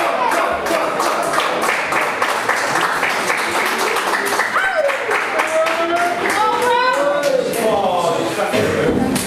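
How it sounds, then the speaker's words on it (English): Wrestling crowd at a BECW Highway To Hell 2016 show, a dense steady roar of clapping and cheering with scattered yells, loud and continuous throughout, with commentary voices running over it. "I hear the crowd."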